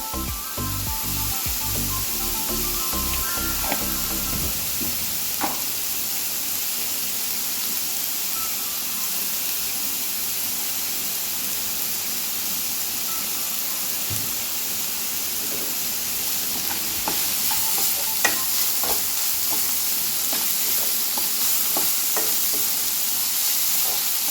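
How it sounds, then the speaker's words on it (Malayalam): Onion with turmeric powder and salt frying for cucumber curry, a steady sizzle and hiss in a pan with clattering spoon stirring strokes, busiest early and scattered later, continuous and close, no talking. "ഇതെല്ലാം കൂടി നല്ലോണം യോജിപ്പിച്ചിട്ട്"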